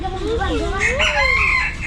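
A single rooster crows nearby at a birds park in Trichy, a loud rising and falling call lasting about two seconds.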